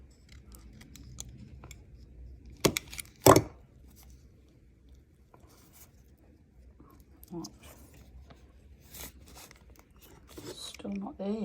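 A cast of Smooth-On Oomoo 25 silicone rubber mould mix is cut, giving a few sharp, close snips and cuts separated by quiet rubbing and handling sounds.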